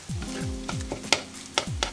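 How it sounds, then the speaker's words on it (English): Eggs sizzle and crackle in hot oil while a utensil scrapes and stirs the pan in a few quick, repeated strokes, close by. "you don't want to leave the eggs cooking once it sizzles for too long"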